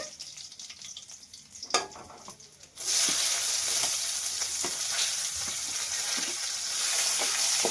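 Chopped garlic and onion, with curry leaves, hit hot oil and frying erupts into a loud, steady sizzle after a quieter start, with scattered crackles throughout.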